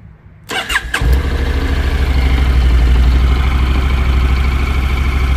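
A quiet motorcycle with a parallel-twin engine cranks with a short starter whir, catches within a second, and settles into a loud, steady, close idle that runs to the end.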